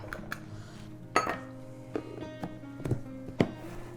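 Chocolate lava cake batter is mixed in a bowl with a utensil, producing sparse, soft clinks and scrapes of metal against dish, fairly quiet and close, with gaps between strokes.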